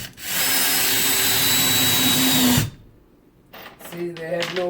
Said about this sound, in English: Driving these screws home.